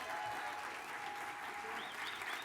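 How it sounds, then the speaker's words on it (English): Steady applause from an audience at a business success talk, a continuous wash of clapping that holds at an even level throughout. "can you please give a round of applause for Colton?"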